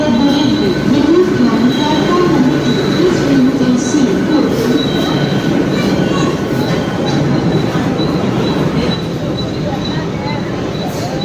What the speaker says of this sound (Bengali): এই যে এখানে ট্রেন দাঁড়িয়ে আছে